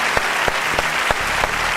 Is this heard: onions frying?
no